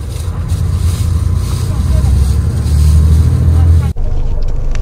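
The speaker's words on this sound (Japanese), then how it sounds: "エンジン音はずっとこんな感じです。" A night highway bus engine drones steadily while driving, a continuous low rumble with road noise that drops away sharply near the end.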